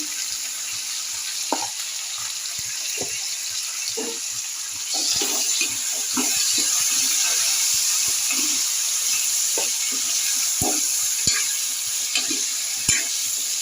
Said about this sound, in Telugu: దీంట్లోనే కొంచెం ఉప్పు వేసుకొని తిప్పుకుందాం మంచిగా మగ్గుతాయి